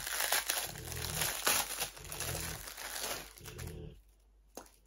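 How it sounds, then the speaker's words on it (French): Paper crinkling and rustling close by in repeated bursts, with brief pauses, then a quieter stretch near the end, while unboxing a Temu package. "Encore un petit peu de bruit de papier."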